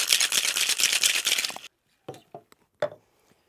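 Ice rattling fast and rhythmically inside a cocktail shaker tin for a gin and Chartreuse drink, loud and close for about a second and a half, then stopping, followed by a few separate knocks and clacks.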